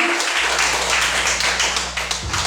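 A church congregation claps together in steady applause during a Sunday worship service, a dense wash of hand claps that tapers off near the end.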